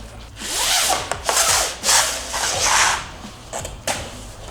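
A wood-effect vinyl floor plank in a camper van is pried loose with a series of close scraping, creaking rubs and a few sharp clicks, with no talk.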